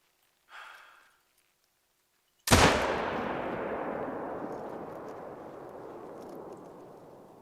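A single loud hunting rifle shot in theHunter Call of the Wild cracks sharply after a brief breath, then rolls away in a long, fading echoing tail.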